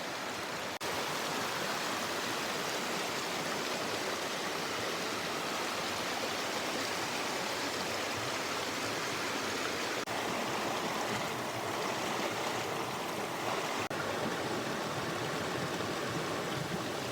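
Hayden Creek in Coaldale, Colorado, flowing water making a steady, dense broadband rush close by, unbroken for the whole stretch, with no voices.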